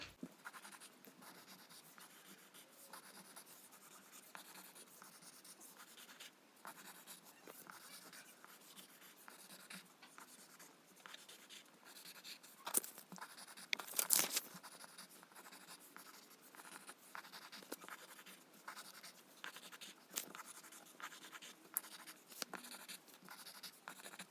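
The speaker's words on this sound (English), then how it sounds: "So I'm going to fast forward this while I draw." Pencil or marker scratching steadily on paper while stars are drawn for a paper star craft, soft close strokes with a few louder bursts near the middle, no voices.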